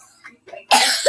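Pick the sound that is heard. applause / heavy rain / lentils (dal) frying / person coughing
person coughing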